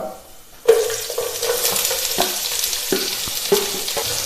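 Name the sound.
onions sautéing in hot ghee with spices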